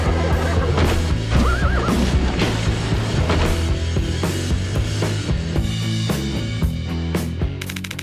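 A horse gives a short, wavering whinny near the start, heard over loud, busy music that runs through the whole stretch.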